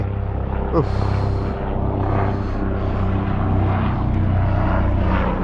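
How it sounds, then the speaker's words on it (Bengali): A helicopter bound for Kedarnath drones steadily nearby in the Himalayan hills near Tungnath, its engine and rotor hum filling the whole clip at a loud, constant level. "এই যে কেদারনাথে হেলিকপ্টার যাচ্ছে"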